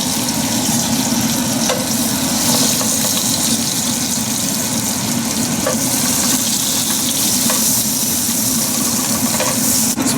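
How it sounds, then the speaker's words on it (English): Fish frying in hot olive oil and butter in a pan, a loud, dense, continuous sizzle that holds steady throughout with no voices. "The pan is hot, so I'll add 1 tablespoon of olive oil, and to that I will add 1 tablespoon of butter."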